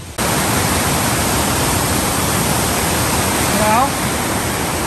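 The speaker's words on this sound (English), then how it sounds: "Waterfall after waterfall, glorious waterfall." Waterfall in the Brecon Beacons roaring loudly and steadily as dense broadband rushing water close by, with a brief voice faintly audible under the noise near the end.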